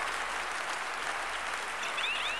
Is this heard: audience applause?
yes